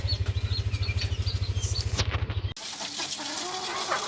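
A mother hen and her newly hatched chicks are moved, with a close, low rhythmic thrumming and scattered peeps, then an abrupt cut to rustling and faint chirps over background noise.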